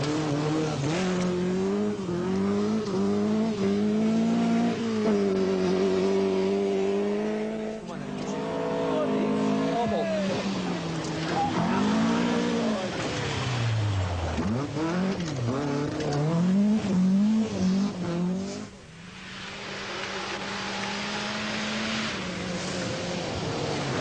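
Rally cars, a Ford Escort and an Opel, race through a 1980 event, engines roaring loud and near as they rev up and down through gear changes, with commentary talking over them throughout.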